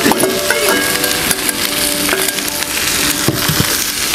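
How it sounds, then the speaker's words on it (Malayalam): Chopped onions hit hot oil already crackling with mustard seeds and curry leaves, and a loud, dense sizzle and spatter holds steady throughout, close and continuous, with a few scraping knocks and no one talking. "ഇനി ഇതിലോട്ട് നമ്മൾ അരിഞ്ഞു വച്ചേക്കുന്ന സവാള ഇട്ട് കൊടുക്കുവാണേ"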